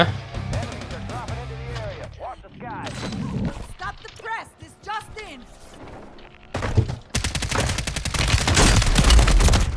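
BAS-B rifle gunfire in Call of Duty Warzone, rapid bursts of sharp cracks and thuds repeating close and loud, broken by short pauses and mixed with a talking voice and game effects.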